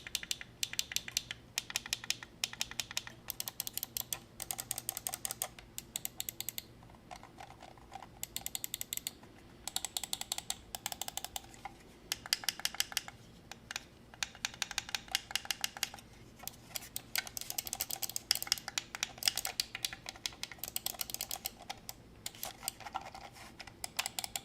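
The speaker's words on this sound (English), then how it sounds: "here we are with what the switches sound like." Computer mouse switches clicked over and over in quick irregular bursts, crisp close ticks with short pauses between runs and no talking.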